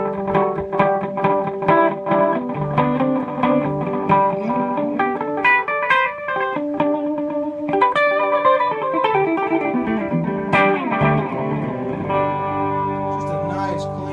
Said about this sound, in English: I usually try to keep it on something like a tape echo. Tends to work for the electric guitar pretty well.